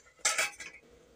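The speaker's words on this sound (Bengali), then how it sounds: "ঢাকাটা খুলে দেখি রান্না হয়েছে নাকি" A metal cooking pot lid is lifted off during egg curry cooking, giving a short clattering clink of metal against metal followed by a softer second knock, then quiet.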